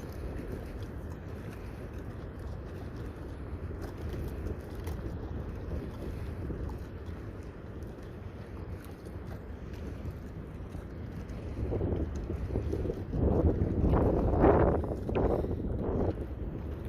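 Steady wind buffets the open shore of Presque Isle near Erie on a cold winter day, a constant low rush that swells louder near the end, with no voices.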